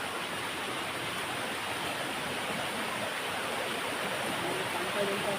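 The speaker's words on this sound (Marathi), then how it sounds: "धबधबो भेटलेलो हा" Insuli Pagavadi waterfall near Sawantwadi rushes in a steady, broad hiss of falling water, constant and fairly close with no breaks.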